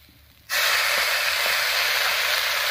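Spice paste sizzling in hot oil while being sautéed for a Bengali banana stem (thor) curry, a sudden loud steady hiss starting after a brief quiet moment and holding at full strength to the end.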